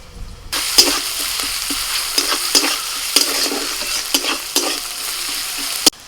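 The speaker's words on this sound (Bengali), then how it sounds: "ওই তেলের মধ্যে দিচ্ছি পেঁয়াজ কুচি। এবার দিচ্ছি কাঁচা লঙ্কা কুচি।" Chopped onion and green chillies fry in hot oil, a steady close sizzle broken by the repeated scrape and clack of a spoon stirring the pan, with no talk.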